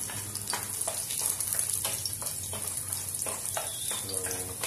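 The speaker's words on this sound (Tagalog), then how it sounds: "first thing to do is isauté natin ang ating garlic" Garlic sautéing in a pan for chicken hardinera, a steady hiss of sizzling oil with soft stirring clatter, close and even throughout.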